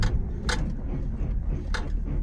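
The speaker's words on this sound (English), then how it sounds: "to really get that suspension to creak" A 1999 Chevrolet Camaro SS SLP creaks in its suspension under repeated braking, two short sharp creaks about a second apart over a low rumble.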